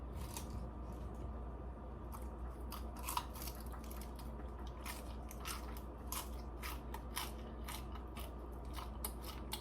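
Fresh salad with cucumbers is eaten up close, giving a quiet series of crisp, irregular crunches and bites against a faint, steady background, with no talking.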